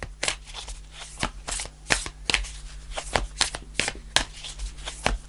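Tarot cards shuffled by hand, a series of quick crisp riffling bursts at an uneven rhythm, close and fairly quiet against a low background hum.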